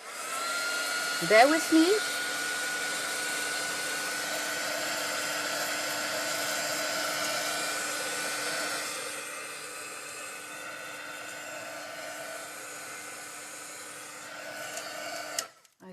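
A heat tool runs steadily while drying a resist technique project, a loud continuous whir for about nine seconds that then drops to a softer hum before cutting off, with a brief spoken remark near the start.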